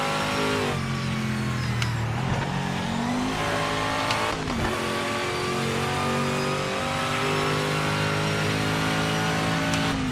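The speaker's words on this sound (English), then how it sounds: "Got to listen to this car." Race car engine in a racing video game, loud and continuous, revving up and down through gear changes with sharp shifts and rising whines, no voices over it.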